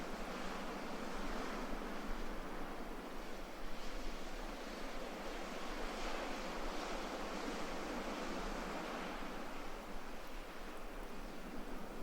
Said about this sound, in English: The ocean greets you with a playful hush as a small wave washes over your ankles